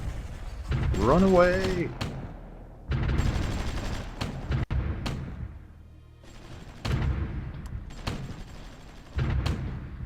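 Repeated bursts of artillery and gunfire from the strategy war game Supreme Ruler Ultimate, with loud broadband blasts recurring every second or two, while a voice shouts briefly early on.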